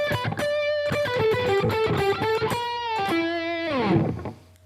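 Electric guitar ripping through a fast metal solo lick, rapid distorted picked notes with a held bend near the end, loud and without talk.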